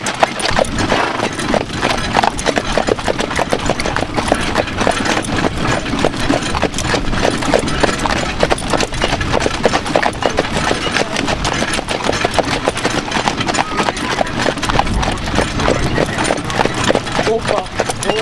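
A horse walks with steady clip-clopping hooves throughout, the even beat continuing under people talking and coaxing the animal.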